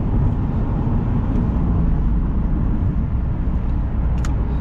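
A 2010 Ford Escape XLT SUV cruising at about 75 mph, a steady, loud broadband rumble of road and wind noise with a low engine drone, unbroken throughout.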